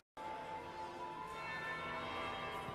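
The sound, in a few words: bell ringing in Dragon Age Inquisition video game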